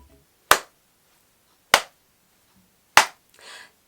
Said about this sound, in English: Slow clap for you